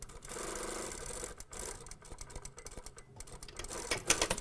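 A sewing machine stitches a seam on pants, whirring in short bursts with brief pauses between runs, close and moderately loud, with no talking.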